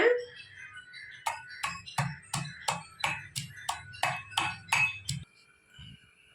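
Chili and peeled garlic cloves pounded by hand in a kitchen, a series of about eleven sharp, ringing strikes at an even rhythm, close and clear, ending with a short softer knock.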